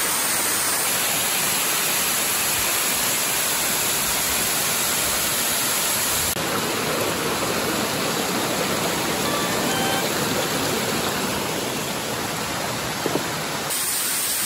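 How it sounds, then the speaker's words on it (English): A waterfall in Springbrook National Park, a steady, dense hiss of falling water that stays constant and close throughout, with no voices. "we got rewarded with another waterfall."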